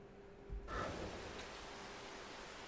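Steady rain falls in Farming Simulator 22, a soft broadband hiss that swells in after a brief quiet start and then holds evenly, with no voices over it.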